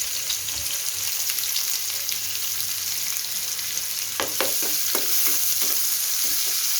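Chopped onion and dried red chilies fry in a pan: a continuous close sizzle, then a run of sharp clinks and scrapes as the mixture is stirred near the end, with no voices.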